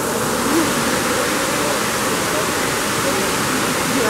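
A water fountain in Colombia splashes in a steady, loud, continuous rush of falling water, close by and unbroken, with no talking.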